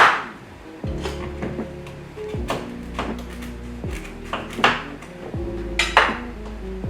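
A knife slicing butternut pumpkin on a board, with a series of firm cuts, each ending in a sharp knock, repeating every second or so at close range, with light clinks between them.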